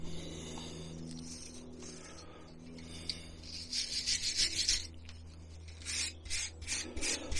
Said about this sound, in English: even just with the wire brush, and I ain't washed it, I ain't done nothing. That's just cleaned with a wire brush.